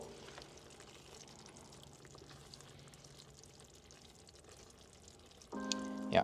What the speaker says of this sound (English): I will add the water as well together with the pasta.